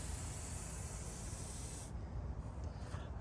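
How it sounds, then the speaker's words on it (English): Aerosol can of WD-40 sprayed onto the moving parts of a worn plow scraper, a steady close hiss lasting nearly two seconds before cutting off, leaving quieter background noise. "coat of WD-40"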